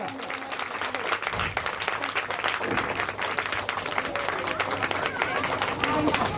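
Hearty applause from a live audience at a Hindi stage performance, a dense, steady wash of clapping that holds for several seconds, with voices and crowd chatter mixed in underneath.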